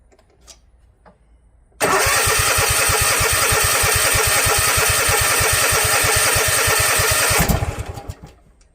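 A Husqvarna engine, recently reassembled and with fuel mixing into its oil, catches after a few faint clicks and runs loud and steady with a rapid even firing pulse for about six seconds before cutting back.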